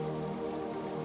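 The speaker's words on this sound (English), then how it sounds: "Outside the window, the rain continues its gentle song, each drop a note in a lullaby." Gentle rain falling in a forest, a soft, even patter of drops that holds steady throughout, with a faint tonal hum beneath and no voices.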